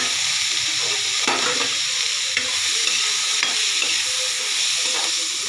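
Vegetables tossed into a hot frying pan for a spiced nutri dish, a steady loud sizzle and hiss with spatula scrapes and stirring knocks throughout, no talking.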